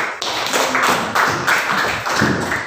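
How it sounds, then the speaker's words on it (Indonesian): A classroom of sixth-grade children clapping together during a lesson on negative integers, a dense, steady burst of many hands lasting about three seconds without a break. "Oke, tepuk tangan anak-anak"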